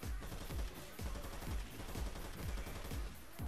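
Full-auto Titanfall gun in a modded Left 4 Dead 2 zombie game fires a steady stream of rapid, punchy shots in a continuous, evenly spaced rhythm throughout, loud and dense, with no talk.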